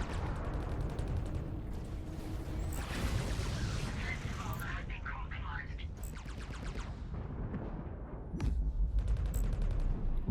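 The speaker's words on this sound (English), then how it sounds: "Really liking the plasma weapon on it, the plasma cannon." A plasma cannon fires in the space combat game Fractured Space, a string of heavy booming bursts and crackles over a rumbling game soundscape, with a voice talking at times.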